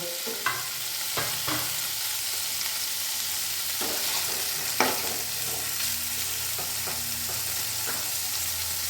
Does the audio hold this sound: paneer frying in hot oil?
yes